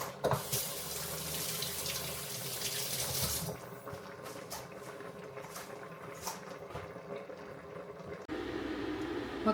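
Water runs from a tap into a cooking pot of Filipino chicken tinola soup, a steady rushing gush that changes tone partway through as the pot fills, with faint kitchen clatter and no talk.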